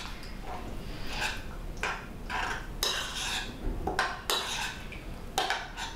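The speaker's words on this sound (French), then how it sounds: "Et on remue." A spoon stirring a drink in a glass, repeated close clinks and scrapes of metal against glass in an irregular rhythm, fairly faint with no talking.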